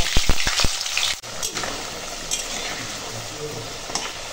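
Potatoes frying in hot oil in a home kitchen, a steady close sizzle with a few sharp clinks of a utensil against the pan at the start, then continuous crackling and spattering.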